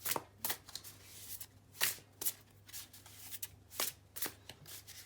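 Tarot cards being shuffled and picked, heard as a series of quick riffling bursts in an irregular rhythm, close and fairly quiet, with a low steady hum underneath and no talking.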